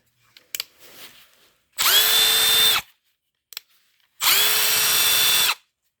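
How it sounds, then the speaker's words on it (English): A Milwaukee Fuel 3453-20 brushless impact driver running free with no load, two bursts of about a second each of loud, steady high-pitched motor whine, close, with faint handling clicks between them. "Here we have the Milwaukee Fuel. So this has the brushless motor. This is the 3453-20."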